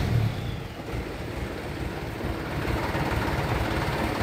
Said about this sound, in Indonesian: hidupin nih, ya, hidupin mesinnya.